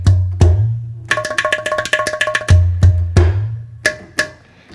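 World percussion from a Kontakt Spotlight Collections sample library spanning India to East Asia: deep booming hand-drum strokes alternate with fast bright metallic tapping patterns in a lively, close, rhythmic groove with no voices.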